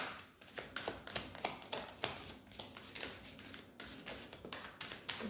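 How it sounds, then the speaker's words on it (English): Tarot cards are shuffled by hand in a quick, rhythmic run of soft riffling taps and slaps, close and fairly quiet, with no talking. "do one shuffle and then we're going to pull card 8."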